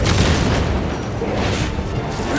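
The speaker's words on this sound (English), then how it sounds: "Crack grenade out." Krak grenade explosion in the video game Space Marine 2: a dense, loud boom that rolls on as a continuous rumbling roar with no clear break.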